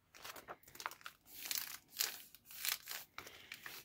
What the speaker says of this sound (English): place this in the middle, fold the sides.